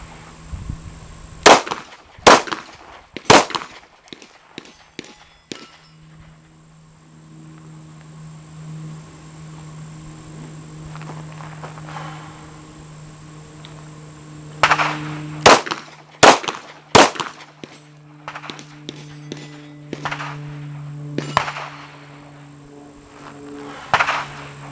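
Glock 23 pistol shots ring out at an outdoor range aimed at silhouette targets: a quick string of sharp, loud cracks, a long pause filled with insect chirping, then another rapid volley of shots.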